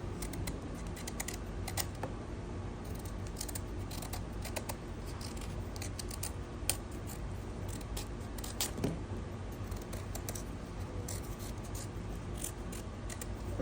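A knife peels the skin off a breadfruit, making soft, quick scraping and cutting ticks that repeat irregularly, faint and close, with no one speaking.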